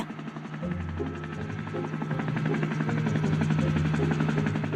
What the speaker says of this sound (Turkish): Sanırım bir polis devriye helikopteri.